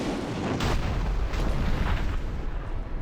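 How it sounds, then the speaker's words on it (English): Cannon fire in the video game Dungeon Siege III, a dense, continuous rumbling barrage with heavy low booms and a sharper blast near the start, loud throughout. "Cannon fire."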